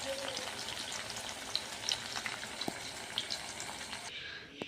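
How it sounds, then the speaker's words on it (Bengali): Paneer pieces fry in hot oil in a kadai, a dense, constant sizzle with scattered pops and crackles, close and moderately loud, easing off near the end with no one talking. "পনিরগুলো ভাজা হচ্ছে।"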